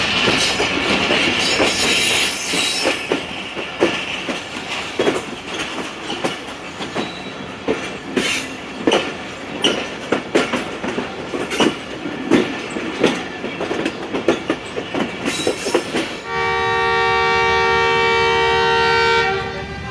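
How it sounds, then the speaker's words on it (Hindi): A diverted passenger train rattles along with dense clickety-clack wheel beats, then a long steady horn-like whistle sounds loudly near the end, heard from inside the carriage. "चलो जी, विसल हो गया"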